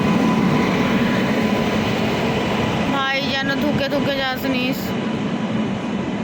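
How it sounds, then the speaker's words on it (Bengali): A train pulls into a platform at Bhubaneswar station, its steady rumble and rail noise filling the scene while someone talks over it nearby. "এই যে আমাদের ট্রেন এই সবে ঢুকলো।"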